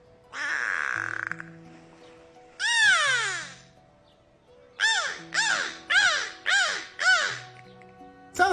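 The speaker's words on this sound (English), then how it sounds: "they communicate with a series of high-pitched calls" Beluga whale calls: a series of about seven high-pitched, bird-like chirps, each a sweeping, harmonic-rich squeal, with one early call and a longer one, then five quick, evenly spaced calls, fairly loud, with no talking.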